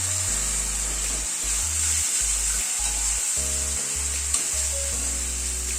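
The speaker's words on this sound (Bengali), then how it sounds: "টমেটোটা একটু মশলার সাথে কষিয়ে নেব যাতে টমেটোর কাঁচা গন্ধটা চলে যায়" Tomato paste fries with ground spices in a pan for methi chicken, a continuous loud sizzle with occasional stirring scrapes.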